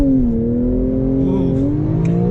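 A Porsche 911 launches under launch control in Sport Plus mode: a loud, close engine drone holds briefly, then its pitch climbs as the car accelerates.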